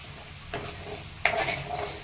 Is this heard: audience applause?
no